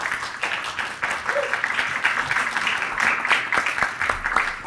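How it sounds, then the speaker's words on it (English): A lecture audience gives a steady round of applause at a Teilhard lecture, the dense clapping sustained at an even level throughout with no voices over it. "So can we give them a nice round of applause?"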